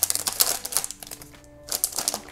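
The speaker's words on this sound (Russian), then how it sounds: "Следующий откроем пакетик Miraculous." A plastic Miraculous toy packet is handled and torn open, giving bursts of crisp crinkling and tapping that pause briefly and then pick up again.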